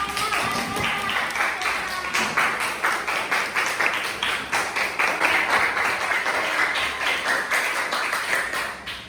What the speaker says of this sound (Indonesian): Oke, tepuk tangan untuk kelompok KS.